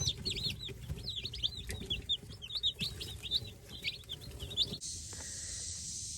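A flock of Freedom Ranger meat chickens peeping and clucking close by, many overlapping calls over a low rumble, then a steady hiss takes over near the end.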